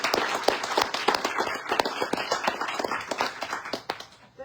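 An audience at an authors' night in a bookstore claps for a novelist coming up to read, a dense patter of hands that thins out and fades over a few seconds.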